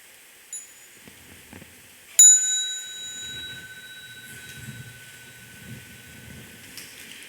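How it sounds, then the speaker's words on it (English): A mindfulness bell is struck once during a Buddhist dharma talk at a retreat, giving a clear bright onset followed by a long sustained ringing tone that slowly decays over soft room background. "That is the best way to ring the bell and to listen to the bell."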